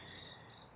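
Crickets chirp steadily at night in a rainy outdoor setting, a continuous high shrill trill pulsing in two long bursts, fairly quiet and with no voices.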